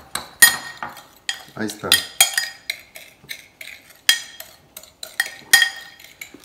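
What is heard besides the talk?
spoon stirring cinnamon into a mixture for buñuelos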